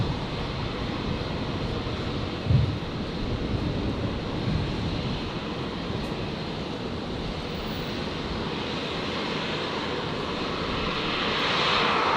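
A Virgin Boeing 737-800 jet arriving on runway 01 right at Brisbane airport, a steady loud engine roar filling the scene with wind-like rushing, building slightly toward the end, no talk.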